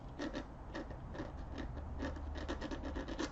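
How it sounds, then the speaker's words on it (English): Steady rasping and scraping as an X-Acto knife trims down a small craft piece, with a continuous gritty texture and faint rhythmic strokes. "So I'm going to take my X-Acto knife, see if I can trim it down a little bit."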